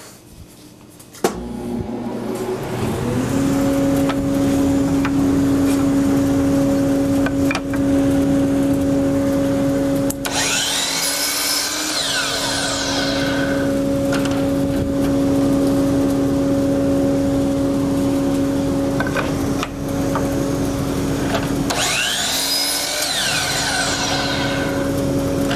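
A miter saw at a miter saw station spins up and runs with a loud, steady motor whine, and two louder bursts of cutting come through. It stays close and continuous with no speech.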